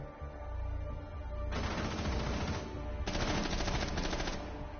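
Gunfire in a 2v2 shooter video game match, loud and sustained, with dense bursts of automatic shots that intensify midway and again near the end, with no voices.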